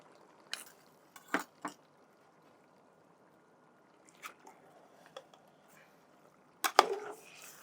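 Chicken pieces are tossed with salt in a pot, giving a few scattered, sharp metallic clinks and wet squishing scrapes separated by quiet gaps, with a louder clatter at the end.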